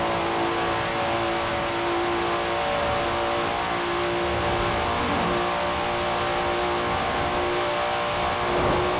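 A Datsun engine in Forza Horizon 4 drones and revs continuously at high volume, a steady mechanical roar with slight rises in pitch, no voices.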